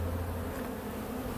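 Honeybees buzz around the old location of a removed hive, a dense, loud, continuous swarm drone that is close and steady throughout.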